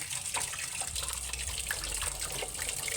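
Native eggs being washed under a running tap, a continuous close splashing of water with faint knocks of handling, no voices.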